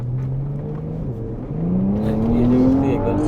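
A Porsche Panamera pulls away hard, its engine note climbing steadily in pitch as it accelerates, loud and close from inside the car, with no one talking.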